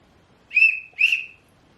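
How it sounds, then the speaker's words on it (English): Two short shrill blasts of a whistle, each about half a second long, close and loud against a quiet background. "That is the whistle."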